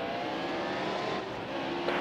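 Stock cars of the Monster Energy Cup Series roar together at the green-flag start of the 2017 Toyota Save Mart 175, a dense, steady engine drone from a pack of cars accelerating, held at a moderate level throughout with no speech.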